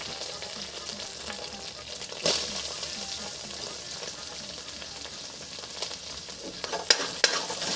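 Onion and tomato fry in a pan for biryani, making a steady, moderately quiet sizzle with occasional scraping stirs and a few sharp clinks, and no voices.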